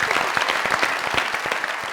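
Dense studio audience clapping on a comedy talk show, a brief burst of rapid applause filling the space at steady loudness.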